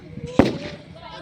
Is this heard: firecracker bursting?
yes